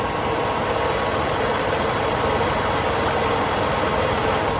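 A cheap $200 car's engine idles steadily, recorded close up from on top of the engine as a constant, even rumble with no talking.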